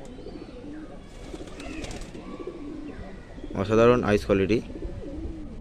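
A Kaldam pigeon coos in a loft, a close, loud burst of throaty rolling coos after a quieter stretch of softer bird calls, with someone talking throughout.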